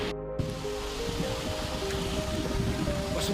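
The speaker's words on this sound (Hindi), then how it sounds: "तीव्र गति से गड़गड़ाता हुआ वसुधारा झरना।" A steady, roaring rush of falling water from Vasudhara Falls near Mana village fills the clip at close range, loud and unbroken, with no voices.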